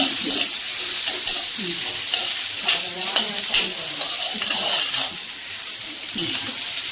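Raw mango ginger sizzles steadily as it fries in a pan, with stirring scrapes throughout, the broad hiss easing slightly near the end.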